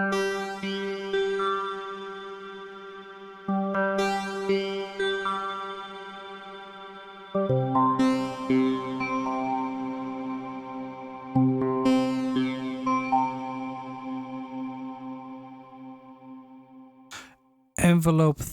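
An Ensoniq synthesizer key held down while envelope 3 repeats a wave sequence gives bright tones that swell and fade in four cycles, each about four seconds long, ending with a short burst.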